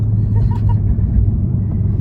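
A car driving on a road, heard from inside as a loud, steady low rumble of engine and tyres that continues without a break.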